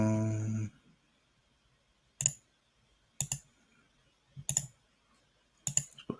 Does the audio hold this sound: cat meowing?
no